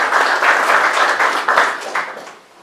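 Audience applause at a conference, a dense, steady burst of clapping from a crowd in a hall that fades out at the end.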